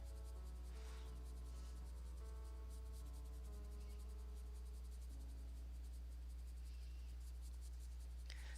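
A colored pencil shades a dark area on paper in faint, steady scratchy strokes, quiet and close against a constant low hum, with no talking.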